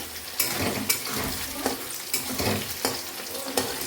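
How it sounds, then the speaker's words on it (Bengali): Potatoes frying in oil in a pan, a loud, continuous sizzle broken by regular scraping stirs every half second or so, with faint clinks of the utensil against the pan. "এবার আমি আলুগুলোকে ভেজে নিচ্ছি"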